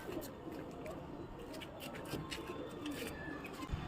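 Double-crested pigeons coo at a Punjabi pigeon-flying shield competition, a steady soft cooing mixed with faint chirps over continuous outdoor background noise and distant voices.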